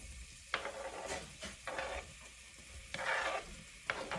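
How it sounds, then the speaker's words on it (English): Onions sizzle and crackle in a hot pan, with bursts of scraping as they are stirred, fairly quiet and close. "Once the onions start sizzling"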